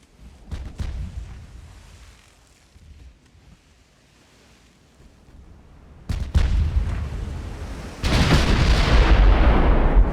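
Naval gunfire from 15-inch battleship guns in the Ultimate Admiral: Dreadnoughts game, heard as deep booming blasts and rumbling roars that swell loudly in the second half, with a washing sea-like noise underneath.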